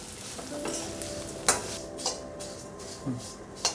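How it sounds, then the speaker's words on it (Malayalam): Rice flakes sizzle steadily in hot ghee in a pan while a spoon stirs and scrapes, with several sharp clinks of utensil against metal at irregular intervals. "അവൽ 1 കപ്പ് അവലായിട്ട് വെച്ചിരിക്കുന്നത് അതൊന്ന് വറക്കാം നല്ലപോലെ"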